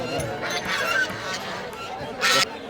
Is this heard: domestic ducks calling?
yes